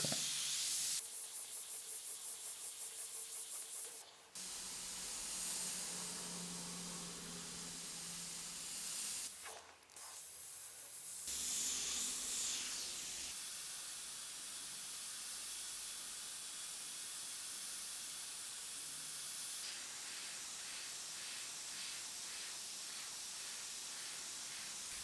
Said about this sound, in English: Now I've just put straight Cratex black into the airbrush